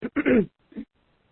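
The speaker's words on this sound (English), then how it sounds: "I'm going to clear my throat." Someone getting over a cold clears their throat up close: a rough, gravelly burst, then a shorter second one, followed by quiet.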